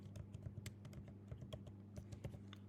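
Computer keyboard typing: quick, uneven clusters of soft key clicks at close range, with no talking.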